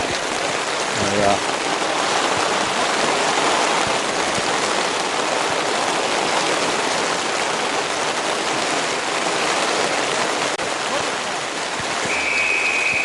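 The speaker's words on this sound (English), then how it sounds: "You can't hear yourself speak, and with the rain." Heavy rain pelts down at a rugby-style sports ground, a steady dense hiss of drops on surfaces throughout, with faint voices in the background.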